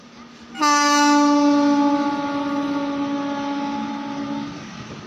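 A passenger train hauled by two electric locomotives passes with a loud, close horn blast that starts abruptly and holds steady for about four seconds before fading, over a low rumble.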